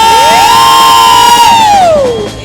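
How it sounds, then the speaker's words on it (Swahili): A worship crowd cheers and shouts loudly at a praise and worship service, with a sustained rising and falling vocal whoop riding over the continuous roar. "Shangwe na deremo."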